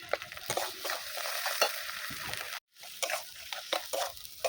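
Spice paste being sautéed with chopped tomato, salt and turmeric for a Bengali koi fish curry, a low sizzle under brisk, irregular scraping and stirring strokes, briefly cut off by a moment of silence midway.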